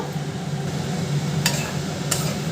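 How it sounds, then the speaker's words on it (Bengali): Spiced pointed gourd curry being stirred in a pan, a steady low sizzle with soft scraping, and two sharp utensil clinks against the pan rim near the end, close and unaccompanied by voices. "এটাকেও নাড়াচাড়া করে নিচ্ছি"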